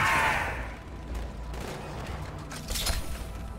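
Rapid gunfire in Halo 2, a dense, continuous burst of shots rolling on without pause at a steady, fairly loud level.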